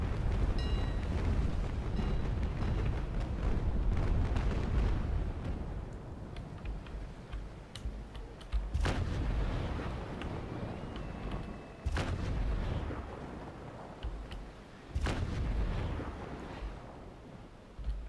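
Cannon fire at a ship in the naval battle game Naval Action: a dull rumbling roar of broadsides and water, with several sharp booming shots at intervals over the steady background.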